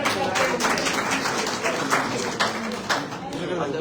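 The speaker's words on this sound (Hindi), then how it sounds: "की तरफ से जोरदार तालियां बजाओ।" Gathered members of a Haryana BJP organisation applauding, with a crowd of hands clapping in uneven bursts at close range and a murmur of voices mixed in beneath.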